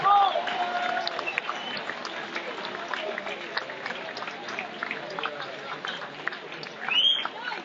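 Audience applauding at a French sports awards ceremony in Hendaye honouring champions, including a Paralympic rower, as steady, moderately loud clapping that continues under a hall full of voices.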